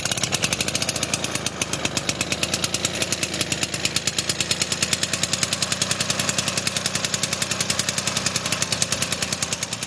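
A restored 1919 Cleveland motorcycle's small two-stroke engine, running on oil-mixed fuel, chugs at a steady rapid rhythm for the whole stretch, loud and close with an even, rattling pulse and no talk.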